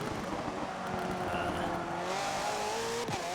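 Race car engine in the Forza Motorsport 7 racing game, revving loud and close with pitch rising and falling through gear changes, a brief tire squeal, and a sharp shift near the end.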